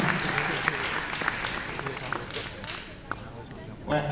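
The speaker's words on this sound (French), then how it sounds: "on peut l'applaudir encore une fois bien sûr" Audience clapping steadily at a cosplay contest final, a broad dense wash of applause that fades slightly toward the end, with a voice breaking in at the close.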